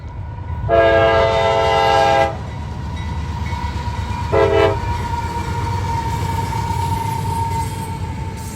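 Freight train I-141 on the old B&O Dayton District sounding its horn in two blasts, a long one then a short one, over a steady rumble of rolling cars passing close by.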